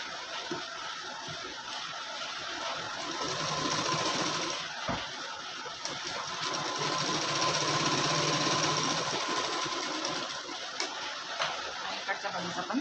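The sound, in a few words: sewing machine stitching tucks on a blouse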